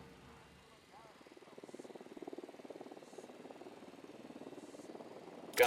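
Helicopter carrying rebel supplies in Ghost Recon Wildlands, heard as a faint, steady rotor thrum that builds slightly in volume, with brief voice chatter at the start.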